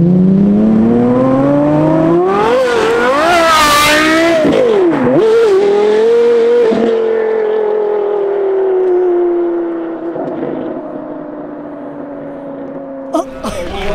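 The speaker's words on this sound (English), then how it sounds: "I've actually seen a straight piped Carrera GT just yesterday doing one of the most amazing pulls out of the event" A straight-piped Porsche Carrera GT at a hypercar event at Blenheim Palace pulls hard, its loud high-pitched engine wail climbing through rapid upshifts, then the note gradually fades and drops as the car moves away.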